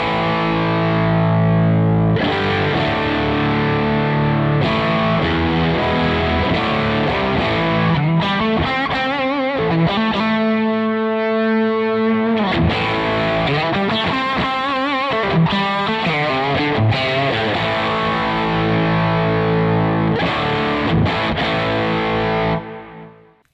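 Electric guitar played through a fuzz pedal into an IK Multimedia TONEX, a loud, thick distorted tone with sustained chords and riffs running continuously and then cutting off at the end.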